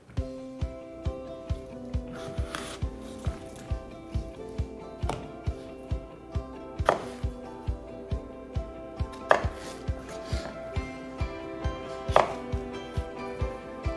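A knife chops zucchini on a cutting board in a steady, evenly spaced rhythm of crisp thuds, close and clear, with music playing in the background.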